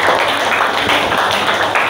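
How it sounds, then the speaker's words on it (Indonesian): Applause from a classroom of teachers for the presenting groups, a steady dense clapping wash held at an even level through the whole stretch with no voices over it. "Kita beri tepuk tangan buat kita semua."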